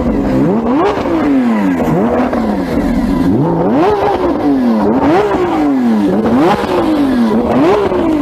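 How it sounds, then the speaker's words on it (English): A Lamborghini Aventador SVJ V12 engine revs repeatedly, its pitch climbing and dropping in a steady cycle of loud bursts, close and unbroken. "Let's have some revs."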